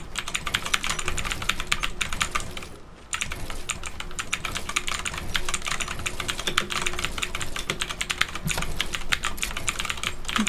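A computer keyboard, tilted at an angle, clatters with dense, rapid keystrokes during a Fortnite match, close and loud for the whole stretch with only a brief pause near the start.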